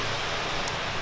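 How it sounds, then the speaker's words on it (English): Steady, dense rain falls outdoors as an even hiss with no voices. "we don't want to go out in the rain"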